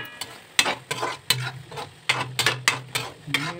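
Masala spices cooking in a pan are stirred with a spoon, producing a series of sharp scraping strokes in an uneven rhythm over a soft background sizzle, close and clear with no talking.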